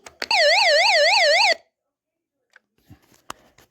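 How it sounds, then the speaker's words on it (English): An emergency radio's loud electronic siren wails in a rapid up-and-down rhythm for over a second, then cuts off abruptly, leaving near silence with a few faint clicks. "Then also it has a siren."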